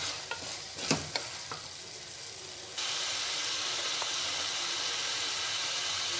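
Potato kurma with turmeric frying in a pan: a few sharp scrapes and clicks of stirring come first, then a steady, close sizzle takes over and holds to the end.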